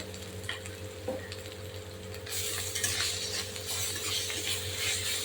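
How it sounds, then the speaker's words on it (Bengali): Turmeric and chopped tomatoes sizzle in a frying pan while a utensil scrapes and stirs them, the sizzle swelling louder partway through as the tomatoes hit the hot oil. "দেবো হলুদ একটু নেড়ে চেড়ে আমি দেবো টমেটো কুচিগুলো"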